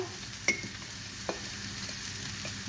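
Kashmiri chilli powder and dry masalas frying in a pan for mushroom curry, a steady low sizzle with a couple of soft spoon clicks against the pan, no talk.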